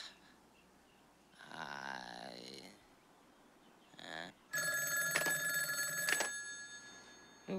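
A payphone's bell rings out in a long, loud, brassy burst after softer, breathy noises, close by and with no speech over it.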